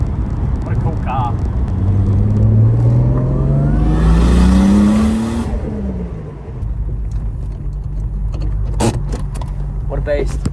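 Holden VL Turbo race car with a manual steering rack, its engine revving up loudly up close in a rising sweep before dropping back to a rough idle, with metallic rattles and people talking nearby.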